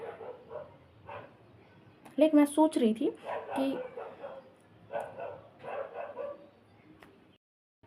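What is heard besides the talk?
dogs barking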